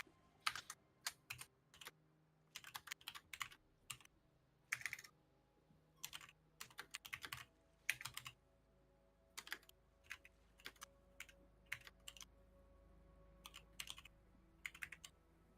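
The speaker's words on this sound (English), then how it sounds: "I can just hear Alex typing with one finger each" Sparse, irregular keystrokes on a computer keyboard, pecked out with one finger, arriving in short separated clusters with pauses between them, fairly close and alone without any talking.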